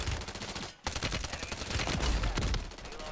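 Rapid gunfire in the video game Warzone, with a Kar98 bolt-action rifle in the fight, dense overlapping shots crackling loud and continuous, one brief drop early on.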